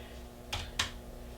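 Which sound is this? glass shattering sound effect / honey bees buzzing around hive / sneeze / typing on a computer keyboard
typing on a computer keyboard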